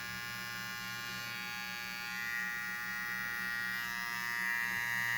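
A cordless rechargeable ORIHEA all-in-one trimmer with a dial hums with a steady, faint electric buzz, running continuously and alone at close range.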